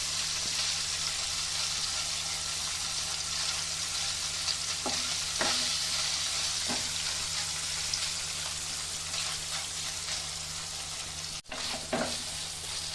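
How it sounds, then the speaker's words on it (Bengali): Paneer frying in oil in a pan, a steady loud sizzle throughout with occasional pops and a few clinks of a utensil, no talking. "তো পনিরটা আমার ভাজা হয়ে গেছে"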